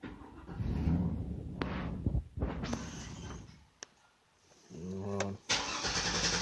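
Engine of a Chevy Avalanche 2500 with a fuel issue, revving with the gas pedal held, loud uneven bursts and dips with brief quiet gaps, with faint talk over it.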